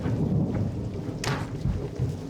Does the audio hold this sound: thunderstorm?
yes